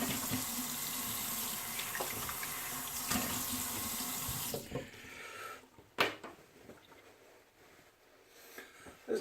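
Water runs steadily from a tap into a sink during a rinse after a shave, a continuous splashing flow that cuts off partway through, leaving a few faint clunks and drips.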